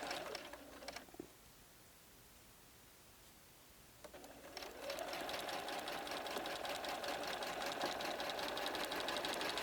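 A sewing machine stitches quilt blocks together along a quarter-inch seam, a brief whir at first, then a pause, and then a long, steady, fast-running hum and clatter from close by.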